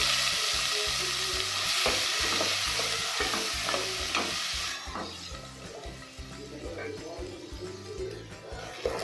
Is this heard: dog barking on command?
no